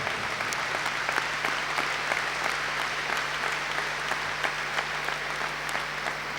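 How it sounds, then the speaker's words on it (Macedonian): An audience at an annual party youth-union conference gives sustained applause, a dense stream of many distinct claps held at an even, moderate level throughout, with a low steady hum underneath. "Еден голем аплауз за нив."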